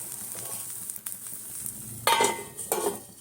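Butter melts and sizzles in a covered pan, a soft steady frying hiss with light clinks and a couple of brief louder spatters near the end, close and quiet with no talking.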